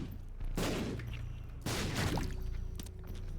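Two heavy blasts go off about a second apart in The Binding of Isaac: Repentance, each a burst of broadband noise with a rumbling tail, loud and close against a steady game backdrop.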